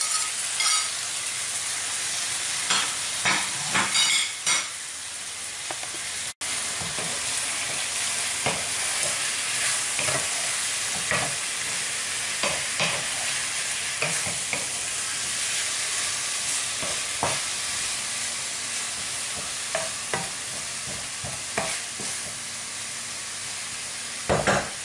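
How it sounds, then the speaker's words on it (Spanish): Julienned onions, sliced garlic and beef sautéing in a pan give a steady loud sizzle and hiss, broken by scattered clicks and scrapes of stirring, with no talking. "Ahora hay que pochar la cebolla con la carne."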